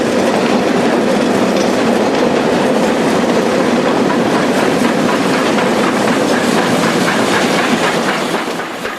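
SY class steam locomotive pushing engineers' wagons uphill from an opencast mine in Fuxin, China, a steady dense rumble of rolling wagons with rhythmic clickety-clack running the whole time, loud and close, easing slightly at the end.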